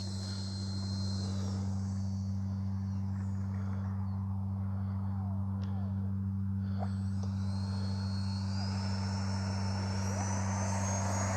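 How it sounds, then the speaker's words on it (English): A Flyfans L-39 RC jet with twin 64mm ducted fan motors running, a steady, loud, whining fan roar with a strong tonal hum, holding level throughout with slight pitch sweeps. "Absolutely fabulous sounding motor. I love the way these 64s sound."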